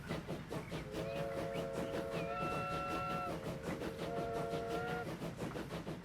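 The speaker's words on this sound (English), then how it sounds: "I'm gonna have a little journey back to Leeds on the train from Wakefield" A train runs in a video game on the route from Wakefield to Leeds, with a continuous rumble and rhythmic clatter throughout and sustained whistle-like tones sounding over it for several seconds.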